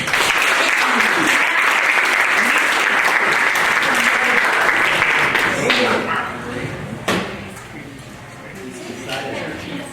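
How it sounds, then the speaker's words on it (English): A high school audience after prom gives loud, sustained applause at a hypnotist show, dense clapping that thins out partway through and fades to scattered claps. "Give Jeremy a big round of applause."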